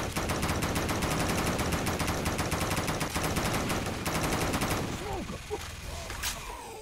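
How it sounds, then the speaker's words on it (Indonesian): A minigun in Left 4 Dead 2 on the Death Island map fires in a long, rapid, continuous rattle for several seconds before cutting off, leaving quieter game sounds and a voice talking. "It's a minigun."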